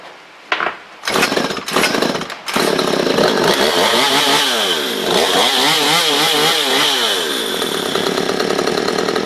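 A Stihl MS 192 TC chainsaw, mid carburetor tune-up, gives a few sharp pull-start bursts, then its small two-stroke engine runs continuously, rising and falling in revs, close and loud.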